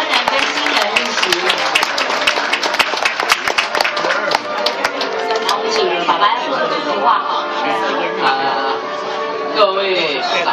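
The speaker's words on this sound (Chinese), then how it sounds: "请各位嘉宾呢，给我们这两个大家庭的结合一个热情的掌声" Guests at a wedding banquet give dense, sustained applause that fades after several seconds into crowd chatter and voices in a reverberant hall.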